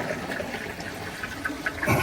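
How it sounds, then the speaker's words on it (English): Aboard Napier Deltic locomotive 55009 Alycidon, a toilet-style flush system rushes with a steady close watery hiss for a couple of seconds, with no talking. "you'll hear it flush like a toilet system"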